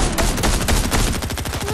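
Rapid bursts of video game gunfire crackle loud and close in a continuous fusillade, with repeated automatic volleys layered over one another and no pauses between shots.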